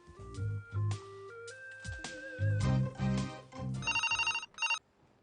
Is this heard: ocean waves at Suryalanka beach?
no